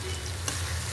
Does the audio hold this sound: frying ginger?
yes